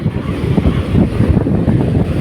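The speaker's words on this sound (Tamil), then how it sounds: "கடல்கிட்ட வந்துட்டோம். சாரல் அடிக்குது. இங்கே பாருங்க அலைய." Wind buffets the microphone in a loud, continuous roar while sea waves wash and rumble close by on Manapad beach, Tamil Nadu.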